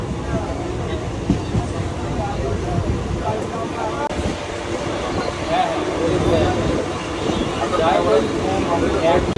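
A Bardhaman–Howrah chord line super local train pulls out of Shaktigarh station, its steady rumble and rattling wheels filling the carriage as the noise builds slightly toward the end.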